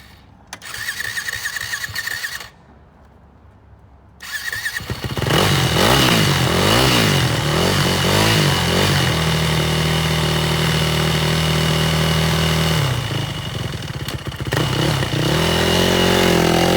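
A used 2006 Yamaha WR450F open-class trail motorcycle cranks for a few seconds, pauses, then fires up and settles into a loud, steady, close-up idle with slight revving, with no talking.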